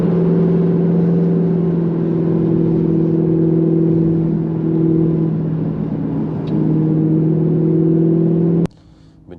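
An Audi R8 V8 sports car cruises with a steady, droning engine note at constant speed, holding even for several seconds before the sound cuts off abruptly near the end.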